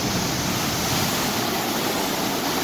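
Water at the Niagara Falls river rushes and roars in a loud, steady, dense wash that never pauses, with no voices.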